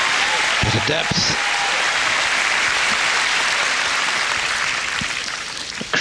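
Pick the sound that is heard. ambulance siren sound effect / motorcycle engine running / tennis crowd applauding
tennis crowd applauding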